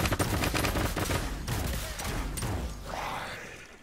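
Dense, rapid gunfire from the battle royale video game Realm Royale, overlapping bursts and shots filling the moment, loud and continuous with no talk over it.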